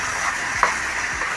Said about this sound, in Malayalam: നമ്മൾ അതുവരെ ഇളക്കിക്കൊണ്ടിരിക്കണം.